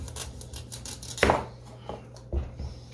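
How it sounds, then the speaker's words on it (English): A knife slices the top off a butternut squash on a kitchen cutting board, giving one sharp crunching chop followed by a softer second knock, close and fairly quiet. "And then I'm going to cut off the top"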